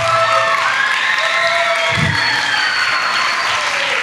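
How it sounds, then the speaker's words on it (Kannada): A large audience applauds steadily for Triveni at a Christmas cultural programme, a dense, continuous roar of clapping with some cheering, loud and sustained throughout. "ತ್ರಿವೇಣಿಗೊಂದು ದೊಡ್ಡ ಚಪ್ಪಾಳೆ."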